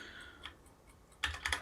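Faint tapping on a computer keyboard while testing letter input for an iOS word game, a few light clicks near the end of a quiet moment.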